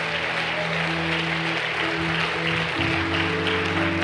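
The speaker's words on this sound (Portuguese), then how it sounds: "Então isso, aplauda ao Senhor." A church congregation claps together in a steady, continuous wash of applause. Sustained musical tones sound underneath, and the clapping fills the whole moment.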